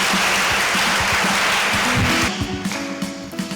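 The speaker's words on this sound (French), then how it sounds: "Est-ce qu'on peut acclamer Dieu pour sa vie?" Church congregation at a Sunday worship service applauding, dense steady clapping that is loud and close, then thinning out as a sustained tone rises underneath.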